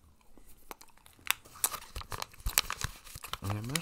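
Grape-flavored Big League Chew bubble gum being chewed up close, with moist, crinkly smacking and crunching bursts in an irregular rhythm, plus a brief voiced sound near the end.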